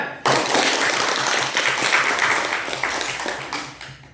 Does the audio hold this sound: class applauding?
yes